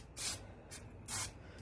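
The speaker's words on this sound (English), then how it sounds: "Alright, so I got my spray" Non-stick cooking spray hisses out of a can in two short bursts with a brief faint puff between them, close and quiet, with no talking.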